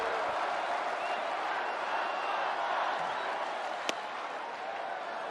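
A capacity baseball crowd at Petco Park fills the air with a steady, dense roar of murmuring and applause, heard from a distance with one sharp crack partway through.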